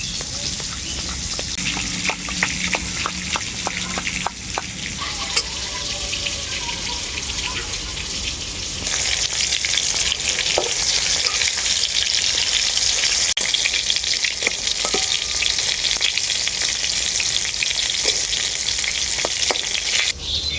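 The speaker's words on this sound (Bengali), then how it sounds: "বাকি পটলগুলো আমি একইভাবে ভেজে নেবো" Pieces of pointed gourd (potol) fry in a pan with a continuous, dense sizzle that grows louder and brighter partway through, with occasional light scrapes and stirring.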